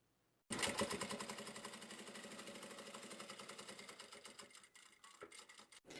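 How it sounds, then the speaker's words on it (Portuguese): A sewing machine runs steadily while topstitching folded fabric for a small zippered pouch, its rapid needle rhythm starting abruptly and then continuing close and even, with a few uneven pauses near the end. "a gente vai dobrar e vai passar pesponto aqui, aqui e aqui."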